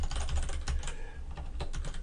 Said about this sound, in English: just go to google.com and type in Google Docs keyboard shortcuts